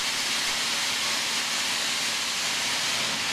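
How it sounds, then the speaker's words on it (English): Continuous loud hiss of steam venting from a locomotive, a steady broadband rush with a faint low hum underneath. "it is nice to see white steam coming out from the locomotive"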